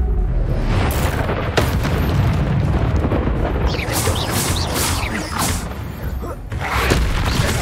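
Confringo spell explosions from the game Hogwarts Legacy boom loudly again and again, a dense run of close blasts and crackling bursts with barely any pause between them.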